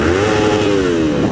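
A motorcycle being ridden, its engine note swelling in a close, loud revving pitch sweep over steady rumble and wind.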